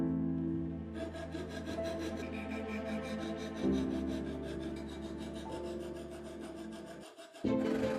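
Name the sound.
filing the edges of a kitchen-foil knife with a file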